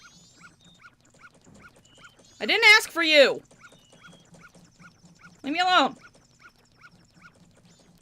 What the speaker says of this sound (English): That dog is rude.